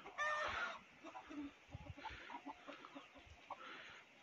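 A rooster clucks and squawks nearby in a rural yard, with a loud burst of calls at the start followed by scattered softer clucks and low rustling.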